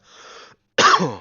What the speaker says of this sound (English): Holy shit, coughing.